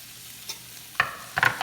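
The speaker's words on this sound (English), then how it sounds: "we're going to go ahead and add our vegetables to the pan" Vegetables go into a pan of melted butter for Cajun shrimp and grits, bringing a few sharp clattering stirs and a rising sizzle. The sounds come close and alone, with no voices.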